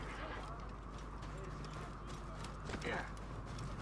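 Horse hooves clip-clop in Assassin's Creed Origins over a game soundscape, a soft rhythmic patter of hoofbeats with a brief whinny-like burst near the end, while a person talks over it.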